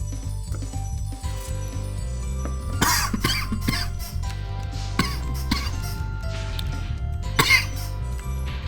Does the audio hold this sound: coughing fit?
yes